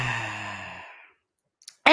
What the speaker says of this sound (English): breathing in through your nose and exhaling an ah sound